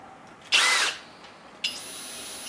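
A power drill with a mixing attachment, set up for stirring concrete for a cement planter, whirs loudly in one short burst, then starts again with a rising whine that holds steady.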